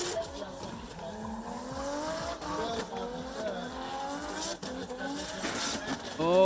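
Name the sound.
drift car skidding with handbrake, tires squealing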